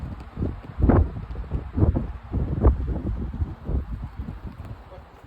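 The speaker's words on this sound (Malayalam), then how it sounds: "ഈ കേൾക്കുന്നത് കാറ്റിൻ്റെ സൗണ്ടാണ് കാറ്റ് ഇങ്ങനെ കൂടി വരുമ്പോഴത്തെ സൗണ്ട്" Gusty wind buffets and roars in uneven surges at the hilltop Kasar Devi temple in Almora, rising and falling several times, loud and close against the microphone.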